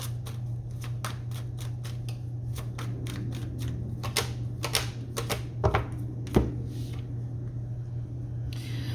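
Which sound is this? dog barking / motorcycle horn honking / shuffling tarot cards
shuffling tarot cards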